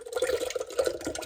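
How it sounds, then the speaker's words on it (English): Goat milk ice cream mixture poured into a machine, a brief close liquid gurgle and splash with uneven bubbly pulses, no talking. "I think we'll pour it in first."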